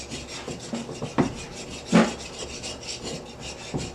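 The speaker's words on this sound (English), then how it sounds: "So now I'm going to use a file." A hand file rasps across wet carved plaster in short uneven strokes, scratchy and close, with a few louder scrapes standing out from the steady rubbing; no one speaks.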